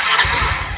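A Suzuki Viva R110 motorcycle engine catches and settles into a close, steady idle with a soft, even putter.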